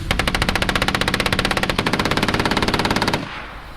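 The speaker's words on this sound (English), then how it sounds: "the Avenger system is equipped with a 50 caliber M3 machine gun, which can be used to engage ground targets" A .50 caliber M3 machine gun firing from an Avenger air defense system, a loud, fast, steady stream of heavy shots lasting about three seconds before cutting off into fading echo.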